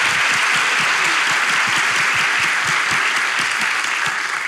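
A studio audience at a Turkish television game show bursts into steady, dense clapping that stays loud and even throughout, with no talk over it.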